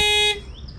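A Hyundai Verna's horn, triggered from the remote key fob, sounds a single loud electronic tone for about a third of a second, then cuts off, leaving quiet background noise.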